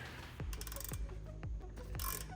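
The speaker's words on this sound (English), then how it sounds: "now it's time to torque the clutch onto the flywheel" Torque wrench clicking in a home garage as clutch bolts are tightened onto a lightweight flywheel on a BMW S85 M5/M6 engine: four sharp ratchet clicks at steady half-second intervals over faint mechanical rattle.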